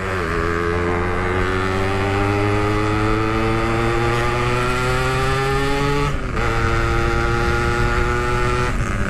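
A Yamaha RX King two-stroke motorcycle, slightly out of tune with a slipping gearbox, revs loud and close, its engine pitch climbing steadily through long pulls with brief drops between.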